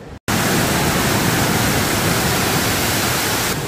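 Indoor waterfall inside a Singapore shopping mall, a steady, loud, close wash of falling water that roars without a break after a brief silent start.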